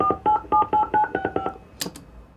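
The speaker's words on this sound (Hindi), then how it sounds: "मैं फोन मिलाया तो आप उससे बात करना" A telephone number dialed on a keypad: about eleven quick, evenly spaced DTMF beeps in a loud, close series, followed by two brief clicks on the line.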